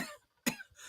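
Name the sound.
coughing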